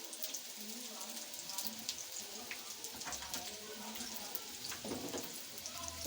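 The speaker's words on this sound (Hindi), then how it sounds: "ये बहुत जल्द फ्राई हो जाती हैं।" Chicken vegetable samosas fry in hot oil with a steady, dense sizzle and crackle, close by, and a voice speaks faintly underneath.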